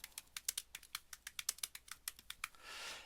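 Quick, crisp keystrokes on a computer keyboard as a URL is typed, about fifteen close taps in an uneven rhythm, ending in a short soft rushing burst.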